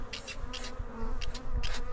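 Bees buzz in a steady drone, with louder bursts of buzzing as individual insects pass close, no voices.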